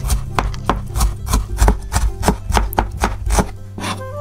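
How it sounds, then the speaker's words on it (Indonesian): A knife chops crushed garlic cloves on a cutting board, giving a fast, steady run of close, crisp taps over a low background hum, with no talking. "Sekarang bumbu irisnya aku pakai 5 siung bawang putih, digeprek lalu dicincang aja biar keluar wanginya."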